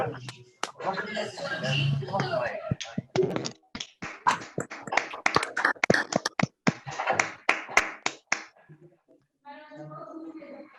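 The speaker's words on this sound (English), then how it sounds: "let's give Adam a round of applause" Online participants clap for a wildlife crime law enforcer after their microphones are unmuted: scattered, uneven claps and taps from many separate sources, mixed with overlapping voices and cheers, thinning toward the end.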